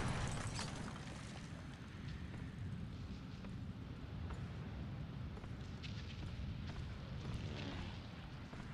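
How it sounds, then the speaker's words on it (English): A grenade goes off in the World War Heroes video game with a rumbling blast wash, followed by continuous battlefield roar and scattered distant impacts, with no talking. "Grenade."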